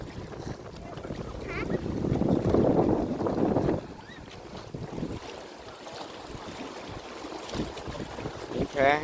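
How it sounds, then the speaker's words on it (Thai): Strong wind at a lakeside viewpoint with big waves, roaring and buffeting the microphone in a loud, steady rush that swells early and then eases slightly, with water splashing underneath. "ลมก็แรง"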